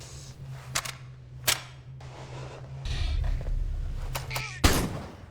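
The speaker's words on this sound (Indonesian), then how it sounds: "Lalu suara tembakan pun terdengar sampai ke kamar Mallory." Gunshots in a film: a few sharp cracks spread unevenly across quiet, low ambience, with one louder blast near the end.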